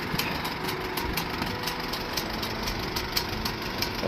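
A Farmall M tractor engine idles steadily, a rhythmic, even chugging with regular pulses, close and alone without any talk.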